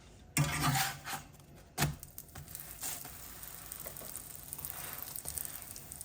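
A moong dal stuffed paratha fries in ghee or oil in a pan, giving a steady soft sizzle after a couple of sharp clanks near the start, fairly quiet and close.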